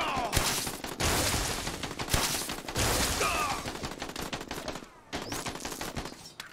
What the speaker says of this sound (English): that acid gun just really is not something fun to use